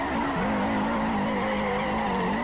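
A Ford Mustang Hoonigan drifting gives a continuous, loud roar of engine and tires, with a steady squealing tone held across the whole stretch and a brief higher skid burst near the end.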